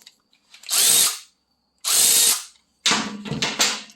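Milwaukee M12 and DeWalt 12V 3/8-inch cordless ratchets loosen bolts in a race, giving two loud, steady motor whirs about a second each, then a third burst with rattling, uneven ratcheting pulses.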